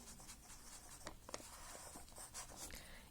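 A pen or pencil writes musical notes by hand, giving faint, soft scratching strokes with brief pauses over a quiet background.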